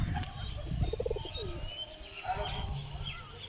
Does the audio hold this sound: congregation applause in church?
no